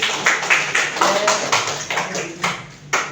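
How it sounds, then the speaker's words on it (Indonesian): Students in a classroom clap their hands in unison during a teaching session, a series of about ten sharp, regular claps in rhythmic groups, fairly close and loud. "semua konsentrasi, tepuk tangan dulu"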